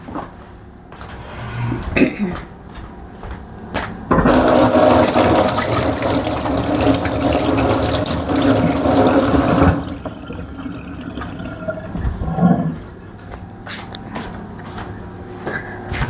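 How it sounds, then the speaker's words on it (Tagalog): Hands washed under a running tap at home in Korea. About six seconds of steady, loud gushing water, with a cough and some clattering around it before and after. "Maghugas muna ako ng kamay."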